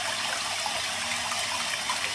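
Water from a tap runs steadily while charcoal makeup brushes are washed under it, a continuous close hiss and splash with no pauses.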